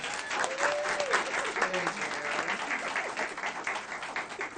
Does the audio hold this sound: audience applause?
yes